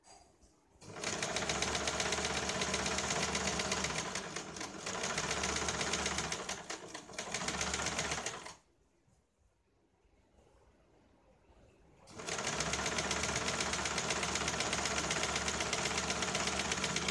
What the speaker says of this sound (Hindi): यहाँ पे हमें ये सीधी सिलाई लगानी है।